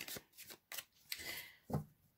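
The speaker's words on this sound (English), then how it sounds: "I'm going to shuffle the cards, and while I'm shuffling the cards" A deck of tarot cards is shuffled by hand in a quiet room, with several short crisp riffles and slaps in an uneven rhythm, close and fairly soft.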